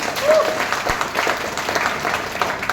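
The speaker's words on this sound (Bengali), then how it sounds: "ভেস্টিজের জন্য একটা জোরে হাততালি হয়ে যাক।" An indoor audience claps together in a dense, steady burst of applause for a few seconds, with a short whistle-like tone near the start.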